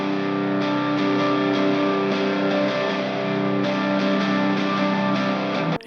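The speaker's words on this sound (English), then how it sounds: "Here's a guitar with distortion first and reverb after." Distorted electric guitar, distortion placed before reverb, playing sustained chords with a washy reverb tail, loud and continuous, no voices.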